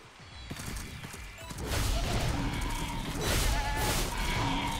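Sheep bleat in the video game Tokyo Jungle, several calls tangled with hoof-like clatter and crashing game sounds in a loud, busy mix.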